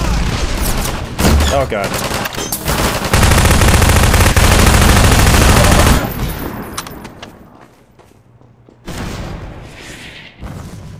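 Rapid automatic gunfire and heavy booms in the Half-Life 2 video game, loud and dense for several seconds, then fading before another burst; someone speaks briefly over it.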